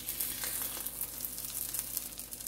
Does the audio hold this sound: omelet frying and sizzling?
yes